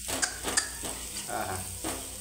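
Sheep blood fries with ground chili powder in a pan, a close sizzle broken by a few sharp scrapes and clinks of a stirring utensil against the metal.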